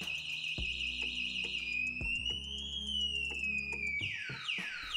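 Anti-theft alarm of a Techo Electra Raptor electric scooter sounds loudly up close, a piercing electronic siren that holds, bends up and down in pitch, then breaks into rapid chirping sweeps.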